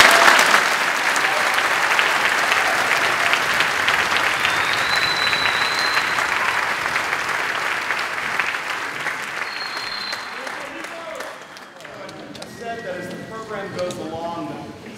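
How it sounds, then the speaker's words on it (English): Dense, sustained applause from a concert audience after a band performance, loud and steady for most of the stretch, then thinning as scattered voices and a few whistles come through near the end. "give them another round of applause"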